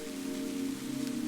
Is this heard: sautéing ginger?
no